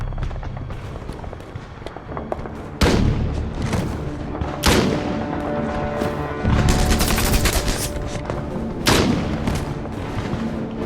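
Sniper gunfire and shelling ring out around a castle in a World War II battle near Clairvaux, with loud sharp blasts and booms at irregular intervals over a continuous rumble.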